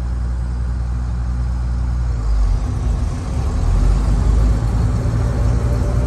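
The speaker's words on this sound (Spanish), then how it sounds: "el motor está a 1000 vueltas, lo tenés que subir ahí, 1300" A Case combine harvester engine runs loud and close in a steady low drone, the rumble swelling and roughening partway through as the rpm is raised.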